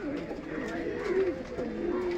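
A pigeon gives low, murmuring coos, fairly faint and close, with a slight rise near the middle and a steady soft background throughout.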